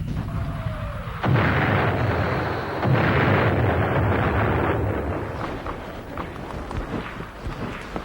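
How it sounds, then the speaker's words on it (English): Vietnam War combat with automatic rifle fire and a huge artillery shell thumping the earth close by, heavy rumbling blasts bursting in twice in quick succession over continuous rough battlefield noise, loud and near, with no voices. "Automatic rifle fire"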